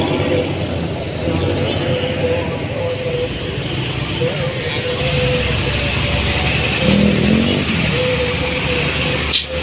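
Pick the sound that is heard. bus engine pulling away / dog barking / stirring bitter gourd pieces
bus engine pulling away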